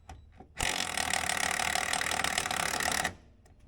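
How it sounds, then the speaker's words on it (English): A wrench loosens a nut on a Polaris Indy 500 Classic snowmobile, giving one steady, loud, close mechanical burst of about two and a half seconds before cutting off into quiet. "I'm going to start loosening the other one right now before I even put the wrench on."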